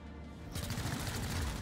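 A weapon opens fire in the video game XCOM: Chimera Force, quiet at first and then breaking into a sustained, rattling burst of fire that lasts to the end.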